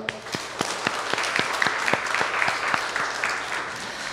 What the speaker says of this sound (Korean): 고생한 우리 모두 위해서 박수 한번 칠까요?